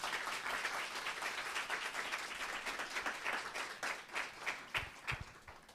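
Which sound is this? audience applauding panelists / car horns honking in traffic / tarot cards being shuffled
audience applauding panelists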